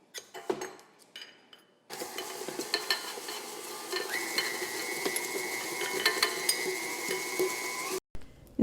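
A stand mixer creams butter, oil and sugar together, a steady whirring churn with faint rhythmic knocks running from a quiet start until an abrupt stop near the end.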